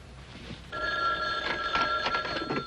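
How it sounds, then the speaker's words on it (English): A telephone bell rings in a short, loud burst lasting a couple of seconds, starting after a brief quieter moment and standing alone without talk. "Phone. Where's the phone?"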